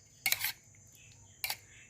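Cilok balls being stirred into beaten egg in a bowl for fried black-pepper egg cilok, two short clinking scrapes of a utensil against the bowl about a second apart, close and fairly quiet.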